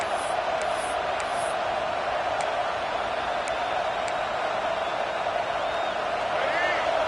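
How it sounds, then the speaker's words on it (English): A video-game crowd roars at an American football stadium, a dense, steady wall of cheering with a few faint whistles and whoops rising above it. "the crowd coming to life here"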